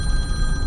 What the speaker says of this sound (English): My phone is obviously always ringing